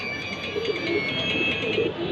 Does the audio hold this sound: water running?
no